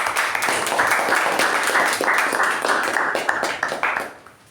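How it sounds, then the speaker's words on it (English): Applause from a meeting audience for a Toastmaster, a dense wash of clapping that holds steady for about four seconds and then thins out and fades at the end. "Let's give Toastmaster Pavani a well-deserved round of applause."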